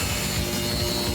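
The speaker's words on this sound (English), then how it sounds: "his pneumatic jigsaw isn't up to the task" Makita pneumatic jigsaw cutting through a motorcycle fuel tank, a loud, continuous rough buzzing whine with rapid rasping pulses from the blade on the metal. It is brief and heard without talking.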